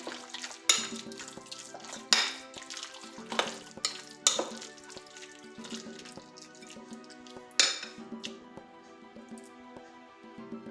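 A utensil stirs and scrapes through a smoked cod paste seasoned with salt and pepper in a bowl, with repeated close, sharp clinks against the dish at an irregular rhythm; no talking.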